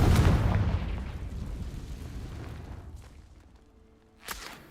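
Confringo fire spell exploding in Hogwarts Legacy, one loud booming blast that rumbles and fades over several seconds, followed by a sharp crack near the end.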